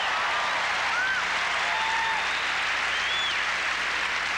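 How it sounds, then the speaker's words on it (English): A crowd applauds a women's gymnastics balance beam routine at a 1984 USA–China meet, a dense, steady wash of clapping heard at a distance, with whistles and cheers cutting through. "Very appreciative crowd."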